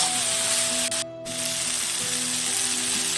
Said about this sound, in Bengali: এভাবে করে কিছুক্ষণ সয়াবিন আলুটাকে মশলার সাথে কষিয়ে নিচ্ছি